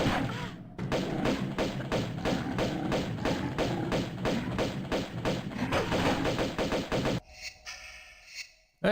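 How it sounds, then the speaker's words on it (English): Pistol gunfire in Tomb Raider Remastered rings out as a rapid, loud, evenly spaced string of shots for several seconds, then breaks off into quieter game sounds. "Why is the pistol so loud?"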